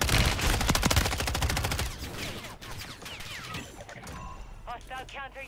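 A fast, loud burst of automatic gunfire from a low-recoil gun in Call of Duty MW3 on Rebirth Island, running for about two seconds before fading into scattered distant shots, with voices talking over the later part.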